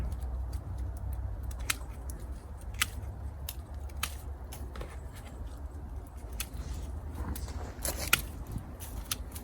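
Pruning shears snip branches on a pyracantha bonsai, giving a series of sharp, close clicks and cuts scattered over a quiet background with faint rustling.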